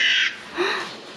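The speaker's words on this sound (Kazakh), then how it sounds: "Қарға." A recorded crow gives two short, harsh caws, loud and close, alone with no talk.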